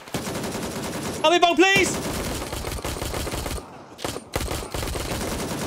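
Rapid automatic gunfire rattles in Gray Zone Warfare, loud and close in dense bursts with brief pauses near the end, while a voice speaks over it.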